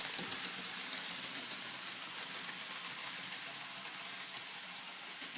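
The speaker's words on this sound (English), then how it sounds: "for now I'm just going to run some locos around" Model locomotives run around a home layout, giving a steady faint whirring hiss of small motors and wheels on track that holds evenly throughout with no talk.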